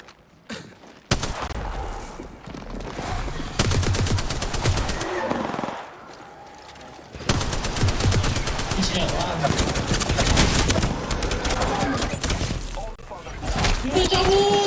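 Bursts of rapid automatic gunfire from a shooter video game, dense volleys broken by short lulls, loud and close under occasional talk.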